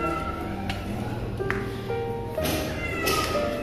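Cat outdoors at a home giving several meows spread through the moment, with light taps and background noise, moderately close.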